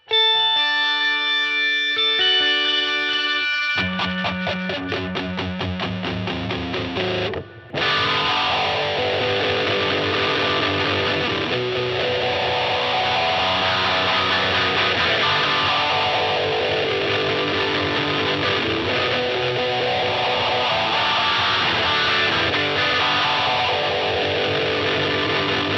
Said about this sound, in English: fully focused on the overdrive sound as my main drive sound